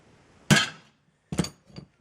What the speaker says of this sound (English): you center punch the hole to give the drill something to bite into